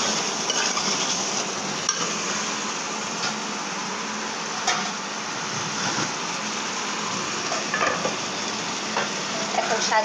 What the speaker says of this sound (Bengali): আলুগুলো দিয়ে কষিয়ে